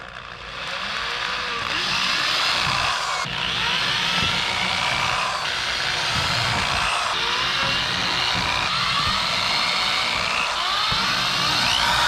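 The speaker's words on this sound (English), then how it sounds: "All right, pilot holes are drilled." A power drill bores pilot holes through a Lexan side window for an AE86, with its protective film left on. The whine is loud and steady, running almost without pause, close up, with no talking.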